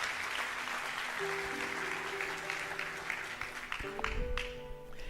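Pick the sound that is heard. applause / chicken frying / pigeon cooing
applause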